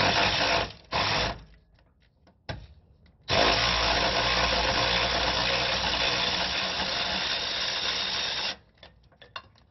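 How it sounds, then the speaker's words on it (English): A power tool whirs in short bursts removing bolts from an Infiniti QX60's rear brakes, then runs steadily for several seconds before stopping, followed by faint clicks and handling noise. "So I'm going to use the power tools to remove those."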